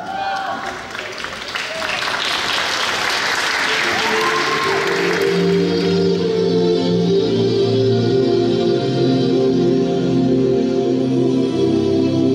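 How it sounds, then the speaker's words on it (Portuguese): Loud applause from a crowd at a talent show swells and continues steadily, with a brief cheer near the start and music rising underneath as clapping carries on. "Salve palmas!"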